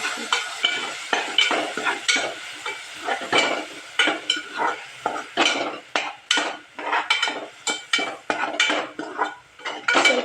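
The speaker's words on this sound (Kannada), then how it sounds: "ಹಸಿ ವಾಸ್ ಹೋಗೋವರೆಗೂ ಸ್ವಲ್ಪ ಫ್ರೈ ಮಾಡಬೇಕು" Vegetables for a vegetable pulao frying in a pan, a steady sizzle broken by frequent scraping stirs and metal spatula clinks against the pan, close and fairly loud with no talking.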